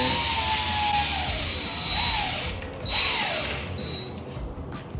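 A handheld power drill spins up and down in short bursts while twisting wire, its whine rising and falling in pitch over a few seconds with brief pauses between runs.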